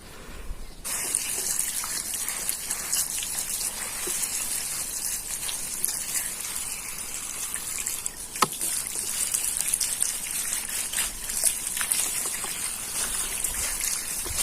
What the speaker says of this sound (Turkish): Ve son bir kez üzerine su atıyorum.